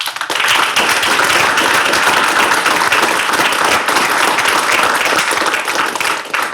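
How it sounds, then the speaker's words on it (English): Loud, dense applause fills a lecture hall as the audience claps after a talk on the resurrection of Christ, a steady roar of many hands lasting the full stretch without pause. "Why don't we give them a round of applause?"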